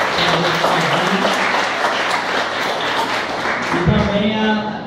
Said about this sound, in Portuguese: Vamos dar uma aplauso de Jesus também.